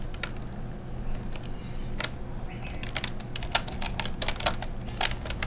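Someone types on a computer keyboard in quick, irregular bursts of close clicking keystrokes over a low steady room hum, with a short pause partway through.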